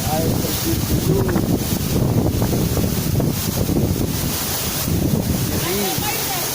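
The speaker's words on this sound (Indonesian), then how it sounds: "Hari ini kita berada di air terjun dulu." A waterfall roars with a steady, dense rush of water that fills the whole scene, loud and unbroken. Faint voices can be heard under the noise.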